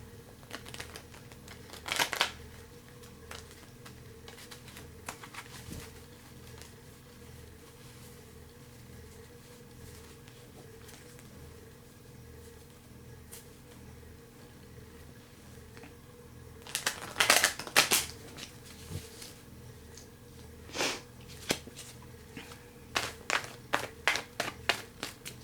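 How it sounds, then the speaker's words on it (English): Tarot cards being shuffled, soft scattered riffling and tapping bursts near the microphone, with quiet gaps between and a denser flurry toward the end. "Let me shuffle these over here."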